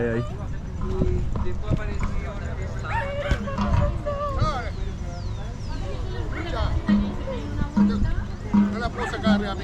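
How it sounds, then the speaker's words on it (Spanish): A small dog yips and barks in short bursts with a few whimpers, heard outdoors by a wooden path amid a lively festival crowd in Punta del Este, with people talking throughout. "Miren cómo hay perrito ahí."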